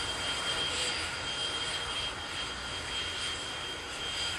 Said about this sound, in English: That presumably the spot where the plane is going to come to its final halt.